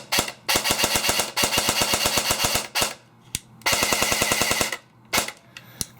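An airsoft gun running on a 7.4V battery fires rapid full-auto bursts, a fast mechanical clatter of closely spaced shots in several strings separated by short pauses, close and crisp.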